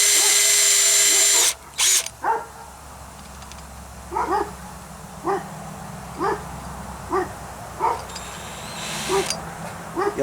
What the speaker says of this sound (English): You'll have to excuse my dogs barking.